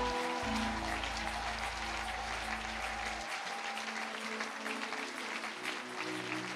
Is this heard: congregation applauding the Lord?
yes